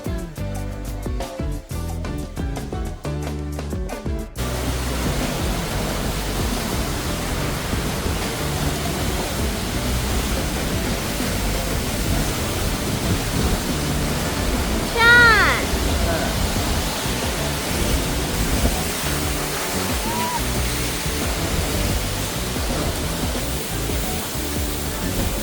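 Steady, dense roar of an Icelandic waterfall heard from the space behind the falling water, a constant broadband wash filling the whole clip after a brief burst of music at the start.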